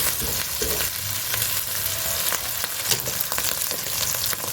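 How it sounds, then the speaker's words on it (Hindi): Masala fries in oil in a pan for Shinwari chicken, a loud, dense, continuous sizzle heard close up with no pauses. "अभी आपने इसको अच्छे से फ्राई करना है। तब तक आपने फ्राई करना है कि जब तक ये मसाला जो है ना, ये ऑयल ना छोड़ दे।"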